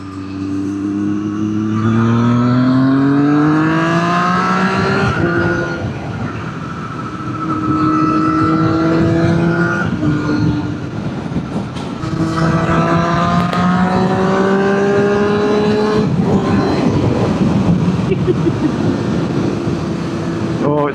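A Triumph 765RS motorcycle with a link pipe and baffle fitted revs up repeatedly, the engine pitch climbing and dropping in loud, close sweeps with a raspy exhaust note throughout.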